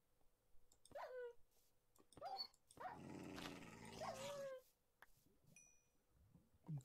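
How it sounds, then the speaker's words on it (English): A dog growling and snarling in the video game Minecraft, with several short rough bursts and one longer stretch of low growl rising and falling, close and fairly loud, with no talk over it. "Another dog up here."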